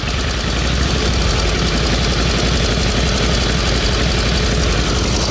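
A rare vintage motorcycle with a manual oiler, found behind a brick wall, idles steadily and close by, a continuous low rumble with a broad mechanical clatter that holds level throughout, with no talk.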